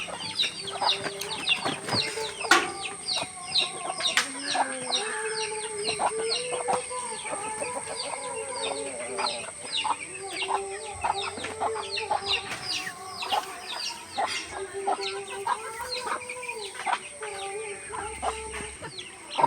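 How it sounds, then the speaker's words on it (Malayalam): One-month-old chicks cluck and peep continuously in a flock, many overlapping high chirps and soft clucks close by, fairly faint overall. "1 മാസം പ്രായമായ കോഴിക്കുഞ്ഞുങ്ങളാണ്"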